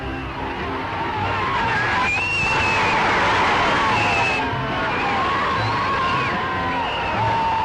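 Beatles fans cheer along the canals in the Netherlands, a continuous crowd of whoops and high shrieks heard from some distance under a steady background din.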